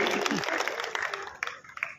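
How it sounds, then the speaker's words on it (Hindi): An audience at a Hindi poetry gathering gives a young poet a burst of loud applause that gradually thins out while a voice speaks over it. "अगर इस बच्चे ने बढ़िया काव्य पाठ किया हो तो एक बार जोरदार तालियों से इसका अभिनंदन कीजिए"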